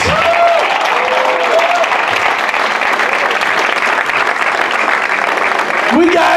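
A stand-up comedy crowd in San Bernardino claps loudly and steadily for several seconds, with a voice speaking over the applause at the start and end.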